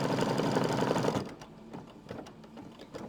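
An embroidery machine runs a dense, rapid satin stitch for about a second, then drops to lighter, irregular ticking and clicking as it keeps sewing, close and steady with no voices.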